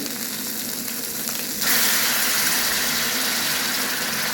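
Ginger, garlic and coriander paste frying with chillies in a pan, a loud, close, steady sizzle that swells sharply partway through as the paste hits the oil, with no talk.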